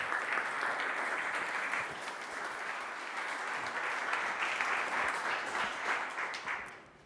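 At a Big Techday tech conference, an audience gives a warm welcome applause for a speaker, a full, even roar of many hands clapping for several seconds before it tapers off at the end.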